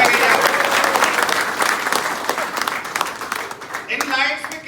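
A crowd at a comedy talk breaks into loud applause that thins out and fades over a few seconds, ending with a voice speaking over the last scattered claps.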